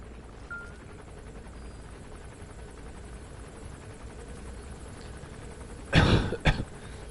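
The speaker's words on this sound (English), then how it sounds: "Can you trank a helicopter in Metal Gear Solid V?" A helicopter in Metal Gear Solid V: The Phantom Pain gives off a faint, steady rotor drone throughout, broken near the end by a short loud burst.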